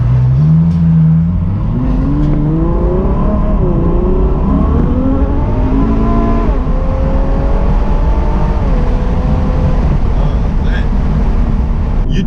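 A Ferrari F12 V12 engine in sport mode revs loudly and close up from inside the car with the windows slightly down, its pitch climbing and falling through several rising sweeps over a continuous deep rumble.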